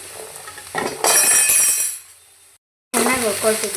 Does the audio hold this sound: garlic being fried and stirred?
yes